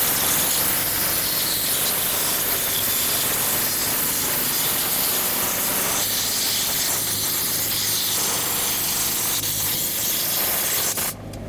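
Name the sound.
compressed air blowgun blowing debris off fuel tank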